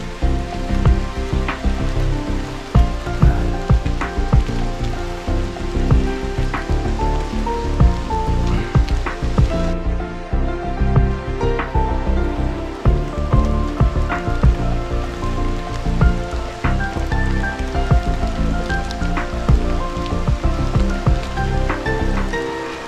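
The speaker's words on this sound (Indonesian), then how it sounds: "Hujan, hujan." Rain falls through trees on a forest hill at Bukit Pelindung in Kuantan, a dense continuous patter of drops that stays loud and steady throughout, with no voices.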